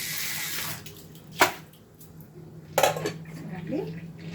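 Water poured off from a cooking vessel while making bitter gourd fry, with soft splashing and two sharp metallic clanks of the pot against a surface over low background hum.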